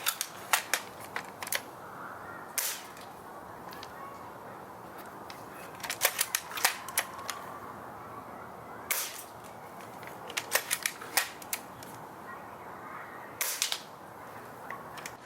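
JG BAR-10 airsoft sniper rifle, a VSR-10 type, fired through a chronograph: several sharp, isolated cracking shots spaced a few seconds apart over quiet room noise, close and fairly loud.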